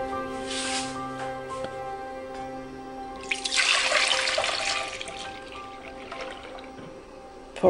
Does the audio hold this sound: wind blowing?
no